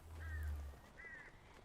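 Crows cawing in Alan Wake Remastered, two faint harsh calls about a second apart over a low rumble, with no voices.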